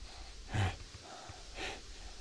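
Character in the video game Greyhill Incident breathing heavily, two distinct rough gasping breaths about a second apart, close but fairly quiet over a low background hum.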